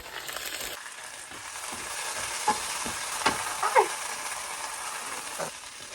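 Leftover chicken and vegetables with yum yum sauce heat in a pan with a steady close sizzle, while a utensil stirs and scrapes now and then, making a few brief clicks over the frying.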